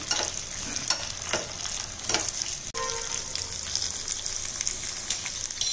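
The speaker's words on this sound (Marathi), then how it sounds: "आपली मिरची आणि जिरं व्यवस्थित शिजवून घेतोय आपण" Steady sizzling of green chilies and cumin seeds frying in hot oil, with a few stirring scrapes, close and continuous.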